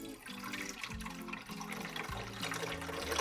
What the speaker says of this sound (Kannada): ಸೊ ಇಲ್ಲಿ ಮ್ಯಾಕ್ಸಿಮಮ್ ಲೆವೆಲ್ವರೆಗೂ ನೀವು ನೀರು ಹಾಕಬೇಕು